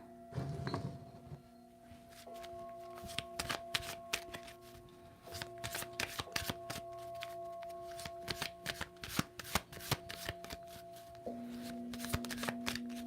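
Black Moon oracle cards being shuffled by hand, a steady run of crisp riffling flicks and slaps close up over a faint background tone, with no one speaking.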